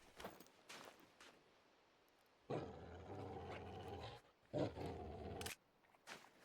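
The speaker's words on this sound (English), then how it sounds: "I always like to take off my scope when I hear the dog growl" A hunting dog growls in theHunter: Call of the Wild, Emerald Coast Australia map. Two loud, sustained rumbling growls come close together, framed by shorter, fainter bursts before and after.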